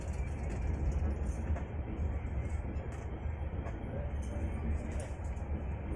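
The steady rumbling, rattling hum of a moving passenger train at night in India fills the interior, continuous and loud throughout with no breaks.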